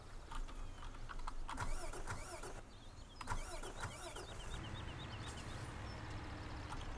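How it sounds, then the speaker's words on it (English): A truck engine in Farming Simulator 2017 cranks and cuts out repeatedly, with short starter bursts, brief revving and a drop to quiet, followed by a lighter steady hum. "Dude, our truck keeps shutting off."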